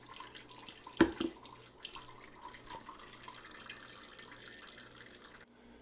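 Juice draining through a secondary filter during farm juice-making, a steady soft trickle and patter of liquid with a single louder knock near the start, faint and continuous until it cuts off at the end.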